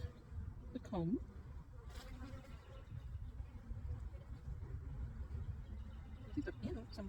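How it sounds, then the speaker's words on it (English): A low, steady drone of bees buzzing close up, continuous throughout, with a few brief higher sounds breaking in. "Alright, see bees in the comb."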